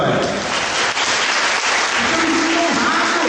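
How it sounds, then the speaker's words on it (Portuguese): Congregation at a church service applauding loudly and steadily, a dense wash of clapping from a large crowd filling the whole moment. "Você dá uma salva de palmas, Senhor?"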